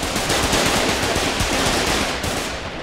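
Sustained automatic gunfire from the Foxhole war video game rattles loud and dense for about three seconds, with rapid overlapping shots and no pause.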